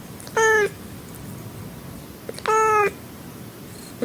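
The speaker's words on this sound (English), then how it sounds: "meow meow meow meow meow meow meow meow." A cat meows twice, two clear, fairly loud calls spaced about two seconds apart over faint background hiss.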